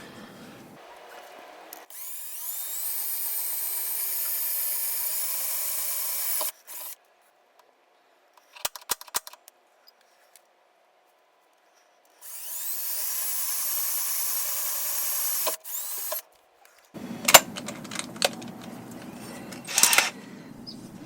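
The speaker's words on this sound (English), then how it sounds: "Got our stop collar so we don't drill through the side of the van." A power drill bores holes with a stop collar through the metal body of a Sprinter camper van, whirring in two long sustained bursts separated by quiet pauses and short clanks of handling.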